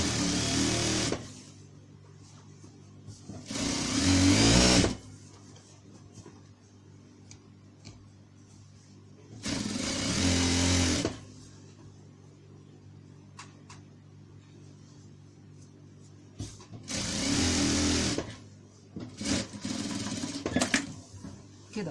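A sewing machine stitches pillowcase fabric in four separate bursts of steady, close, rapid mechanical whirring, with quiet pauses between the runs.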